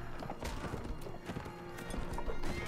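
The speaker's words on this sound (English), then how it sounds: "crashed into him with my horse" A horse in the Mount & Blade: Warband video game gallops with rapid clip-clop hoofbeats and a whinny, mixed with battle clatter at moderate level.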